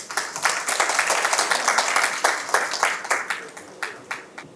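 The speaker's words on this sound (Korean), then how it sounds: "큰 박수 부탁드립니다." Audience applause at an academic conference for a presenter from the Independence Hall research staff: a dense burst of many hands clapping, loud and close, slowly thinning into scattered claps toward the end.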